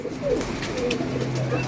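Pigeons from Lahore coo softly in a continuous, low, rolling murmur, close by and fairly brief, with faint background noise from their surroundings.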